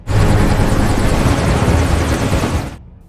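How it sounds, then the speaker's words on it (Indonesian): A US special forces helicopter arriving, a loud, close, steady rotor roar that fills the whole stretch and cuts off sharply near the end. "Kemudian helikopter pasukan khusus Amerika pun tiba di sana"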